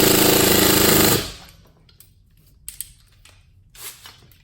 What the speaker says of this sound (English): Let's retighten it and go down to 40 foot-pounds.